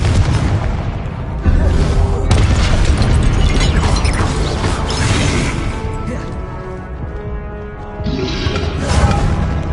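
Confringo spell blasts in the Hogwarts Legacy video game, loud booming bursts crashing amid continuous dense combat noise and music, with fresh impacts near the two-second mark and again around eight seconds.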